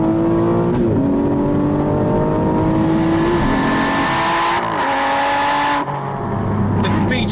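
An Aston Martin V12 Vantage sports car in sport mode roars loudly and continuously nearby, its engine note rising and shifting through gears over several seconds.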